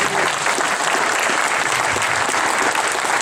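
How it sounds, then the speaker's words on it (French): A crowd applauds event participants and bar volunteers at a popular gathering, sustained loud clapping close and full throughout, no voices on top. "Donc si on pouvait faire un petit tour d'applaudissements pour toutes les personnes qui ont participé"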